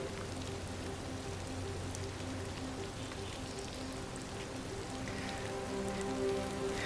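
Steady rain falls outside behind a house in Nob Hill, Albuquerque, New Mexico, a continuous soft patter on surfaces with faint low hum underneath and no voices.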